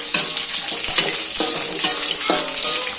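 Chilies sizzle in a pan of browned, fragrant onions for a stir-fry of young papaya, a steady close crackle broken by several scraping stirs of a utensil against the pan.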